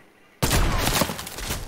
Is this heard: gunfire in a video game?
yes